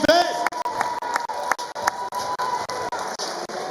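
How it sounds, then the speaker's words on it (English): Spectators at a Gamebred professional boxing event applaud after a women's co-main event bout, with sharp rhythmic claps standing out above a steady crowd roar. "how about a round of applause for these ladies in our co-main event?"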